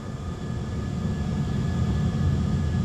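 Airbus A320 jet engines building to takeoff thrust on the runway roll, a steady loud low rumble and roar that swells slightly, heard close from the cockpit with no talk.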